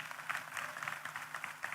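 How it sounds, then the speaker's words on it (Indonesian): A small group at a leadership training session claps together in a soft, continuous patter, faint and slightly distant, with no talking over it. "ya kita beri tepuk tangan."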